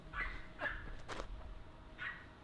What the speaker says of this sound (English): Do you hear that? It's young doggy. What is he barking at, bro?